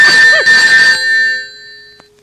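A phone ringtone plays loudly and close for about a second, a bright electronic tone that fades into a lingering ring and silence.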